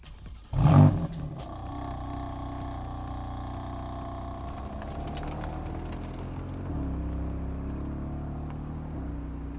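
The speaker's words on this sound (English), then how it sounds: "My favorite part of the S55 though is when it's actually running." A BMW M4 F82's S55 twin-turbo straight-six fires up with a loud burst, then settles into a steady, rumbling idle with deep harmonic tones, heard close and alone.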